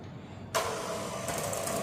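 An electric mixer on slow speed blends cake batter made with oil and water into a runny mix. It switches on abruptly after a brief lull and keeps up a steady, fairly quiet whirring hum.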